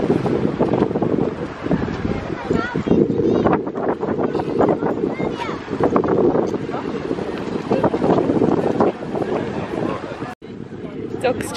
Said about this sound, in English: Sorry if it's really windy